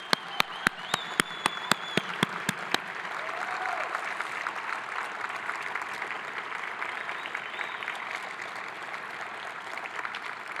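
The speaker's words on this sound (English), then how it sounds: "I'd like to give you a round of applause." A hall of fame ceremony crowd gives a long round of applause, opening with several loud, evenly spaced claps close by before settling into a broad, steady wash of clapping from across the room.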